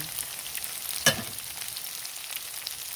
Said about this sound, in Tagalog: So, lagyan na natin yung ating bawang.